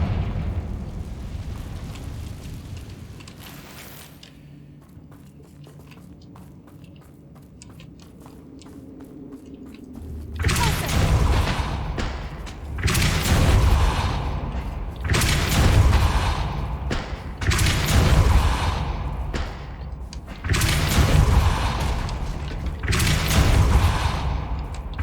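Confringo spell explosions from the video game Hogwarts Legacy, a run of about six loud booming bursts in an uneven rhythm after a quieter stretch of rumbling ambience.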